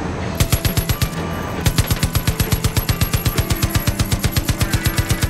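A mounted machine gun on a truck in Far Cry 5 fires loud, rapid bursts of evenly spaced shots, a short volley first and then a long continuous stream up close.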